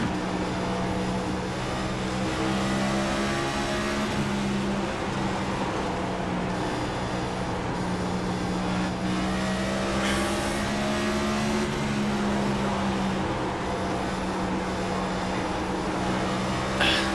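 Stock cars in a Cup race at Bristol in iRacing drone loudly and continuously, their engine roar holding steady throughout with slight swells as the pack circulates.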